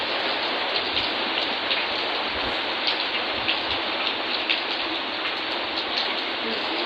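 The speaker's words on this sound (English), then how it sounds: "It's a storm today, and it's raining really heavily." Heavy rain pours down steadily during an outdoor storm, a dense, continuous hiss of drops drumming on surfaces close by, with faint scattered taps and no voices.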